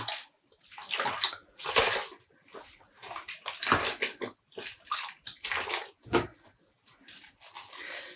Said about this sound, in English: And we're squeezing out the yarn again, the water.